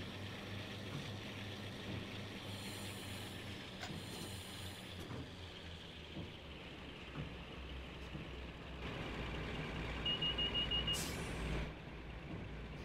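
A locomotive in Train Sim World 2 on the Great Western Express route gives a low, steady engine rumble that builds gradually as it gathers speed, with a brief high whistle-like tone near the end.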